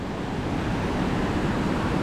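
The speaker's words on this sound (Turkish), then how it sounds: "Nihayet de geldik. Mençuna Şelalesi'ni" The Mençuna waterfall in Turkey's Black Sea region roars as a steady, broad rush of falling water, loud and continuous with no voices.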